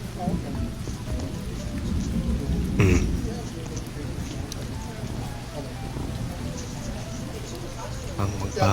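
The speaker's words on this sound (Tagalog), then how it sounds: "Ulan ngayon ah." Rain falling steadily with a hiss over a low rumble, a louder gust or thunder-like burst midway, and voices talking faintly underneath.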